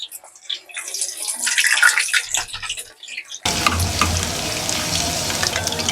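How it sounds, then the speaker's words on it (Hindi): Potato pieces drop into oil heated a little above medium and fry with a steady, dense sizzle. A quieter stretch of clinks and handling comes first, then the frying starts abruptly and stays loud and even through the rest. "तमाम पोटैटो पीस मैंने तैयार कर लिए और अब इन्हें फ्राई करते हैं।"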